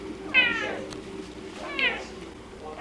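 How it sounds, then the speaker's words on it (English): A pet cat meows twice indoors, close and clear, each call drawn out and rising, separated by a quiet pause over low room noise. "When I tell people how much you meow, they don't believe me. But you meow."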